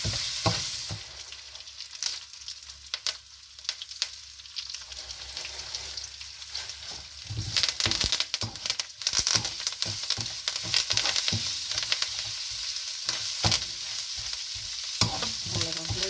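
Grated coconut roasting and being stirred in a pan for a kozhukkattai and paniyaram mix, giving a steady close sizzle with scraping stirs throughout and no talking.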